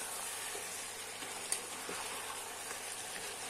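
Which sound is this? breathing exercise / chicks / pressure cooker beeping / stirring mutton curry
stirring mutton curry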